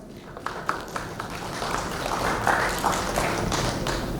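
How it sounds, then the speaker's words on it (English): A conference audience at Web3Conf India 2023 applauds to welcome a speaker onto the main stage. Scattered taps build into dense, sustained clapping that fills the hall, with a voice faintly mixed in. "Let's welcome Varun on stage with a huge round of applause"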